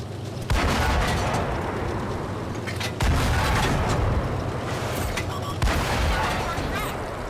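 Heavy booming cannon shots from a T71 light tank in a tank video game, three loud blasts spaced a few seconds apart over a steady engine rumble, with talk in between.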